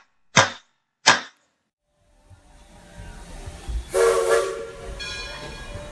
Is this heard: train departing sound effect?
yes